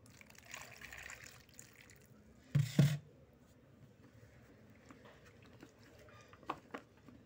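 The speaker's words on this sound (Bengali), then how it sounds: "ভালো করে আম দুইটা ভালো করে ধুয়ে নিলাম।" Two raw mangoes being washed in water: quiet splashing and trickling at low level, with one louder burst of sloshing midway and a few small splashes near the end.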